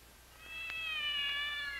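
Kittens in a farm barn give a soft, thin meow, one short drawn-out cry with a faint second rise, heard alone at low level.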